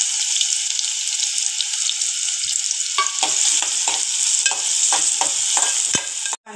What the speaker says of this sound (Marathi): एक मोठा कांदा असा बारीक कट करून घेतलाय, तो आपल्याला चांगला परतून घ्यायचा आहे